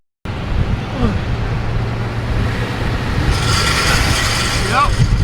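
A truck's worn CV axle spinning in reverse while the tire stays still, a loud steady mechanical whirring and grinding drone close to the microphone that starts abruptly and continues throughout.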